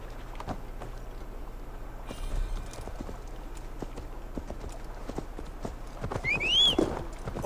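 Horse hooves clip-clopping in a steady trotting rhythm in the video game Assassin's Creed Valhalla, fairly quiet and close, with a brief whinny near the end.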